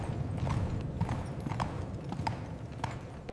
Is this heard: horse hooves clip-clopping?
yes